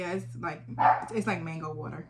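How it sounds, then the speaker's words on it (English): Dog barking and yipping in short bursts indoors, mixed in under someone talking close by. "Excuse the dog."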